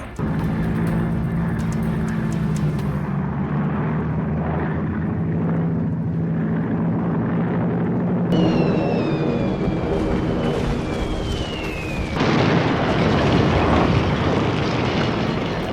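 Loud, droning WWII bomber engines roar continuously, with throbbing low tones and later a high descending whine over the heavy rumble.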